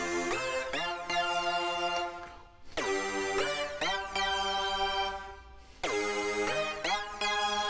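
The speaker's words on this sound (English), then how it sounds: "I added in this lead synth line" A bright lead synth line enters a pop song's second chorus, with sustained harmonic tones over a full mix in steady phrases that break briefly between sections, loud and upfront.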